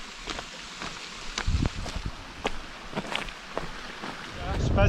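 Gusty wind buffets a microphone on a mountain trail from Annecy toward the Parmelan, producing low rumbling thumps that rise and fall while someone talks over them.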